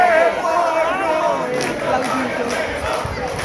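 Crowd celebrating the Borgo district's Palio horse race win in Castel del Piano, a loud steady roar of shouting, chanting and excited voices with bursts of cries throughout.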